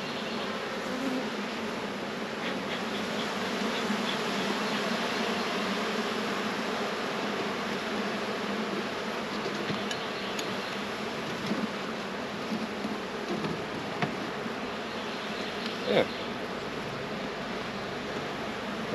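A dense, steady buzz of many bees around a hive fills the air continuously, close by, with no voices.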